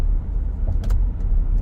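A 2004 Lexus LX470 cruises along, its engine and road noise a steady low rumble from inside the cabin, with a faint click partway through.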